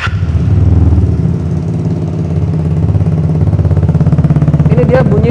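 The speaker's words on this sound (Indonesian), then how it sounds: "Ini dia bunyi dari knalpot Polini Evo, Polini Cobra" A modified yellow Vespa Sprint scooter runs at close range through a Polini Evo exhaust, its two-stroke engine giving a loud, steady idle rumble with a slight blip of the throttle near the end.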